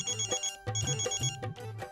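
A phone ringtone plays alone, a repeating electronic melody in short bursts with brief gaps, moderately loud and close.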